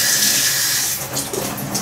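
Kitchen tap running while meatballs are being prepared, a steady hissing gush of water that stays loud and close, easing slightly near the end, with no talking.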